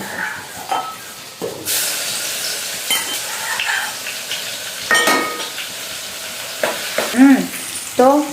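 Vegetables with chillies tempering in hot oil, loud bursts of sizzling and crackling with stirring and clattering utensil sounds, brief voices between bursts.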